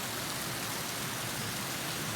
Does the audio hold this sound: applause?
no